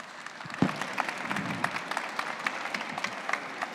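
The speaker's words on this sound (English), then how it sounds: "And give them a round of applause, please." An audience at a yacht design talk applauds the arriving guests. Scattered, fairly soft clapping comes from a room-sized crowd and continues evenly throughout.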